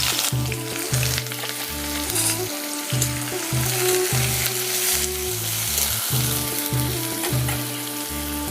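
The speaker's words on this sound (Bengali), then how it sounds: "তেল গরম হয়ে গেছে, দিয়ে দেব পেঁয়াজ কুচি" Chopped onion hits hot oil in a kadai and fries with a steady, dense sizzle across the whole clip, while a repeating background music melody plays underneath and nobody speaks.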